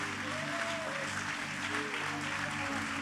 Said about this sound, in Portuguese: Aplauda mais forte, mais forte, mais forte, mais forte, mais forte.